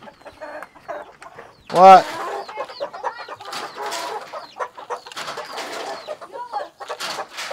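Hens cluck and squawk close by, with one loud squawk near the start, while a couple of people exchange brief remarks.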